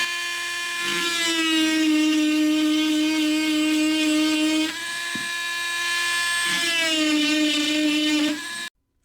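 A Dremel rotary tool fitted with a Saburrtooth extra coarse orange burr carving hardwood, a loud high steady whine lasting several seconds, dipping briefly midway before resuming and then stopping abruptly, close with no talk.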